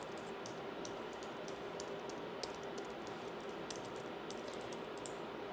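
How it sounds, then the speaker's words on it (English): Personal information is typed on a computer keyboard in a quiet room, a steady run of soft, closely spaced key clicks over a low background hiss. "now you're going to type in your personal information."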